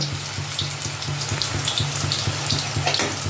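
Chicken kofta frying in oil, giving a steady, dense sizzle with crackling pops that continues throughout, close and fairly loud with no talk.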